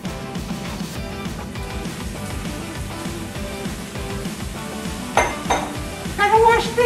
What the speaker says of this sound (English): Now the onions and garlic are nice and brown, so we're gonna add our turkey ground meat.